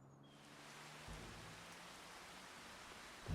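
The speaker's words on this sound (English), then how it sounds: "A little rainy this morning here in June." Steady rain in the farming video game Farming Simulator 25 hisses evenly on a June morning, a soft, continuous wash with no voices.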